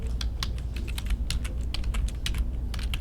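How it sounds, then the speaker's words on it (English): Fingers type on a computer keyboard, a close run of quick irregular key clicks lasting about three seconds, with no speech. "Click on the circle and start typing."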